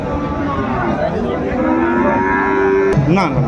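A young Sahiwal bull calf moos loudly and close at a cattle market in Dinajpur, one long drawn-out call over a busy background of market murmur.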